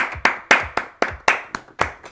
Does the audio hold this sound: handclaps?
yes